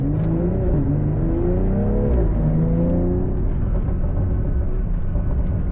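BMW M340i pulling away at moderate throttle, engine note rising steadily in pitch then settling into a steady rumbling drone, heard from inside the car with no talking.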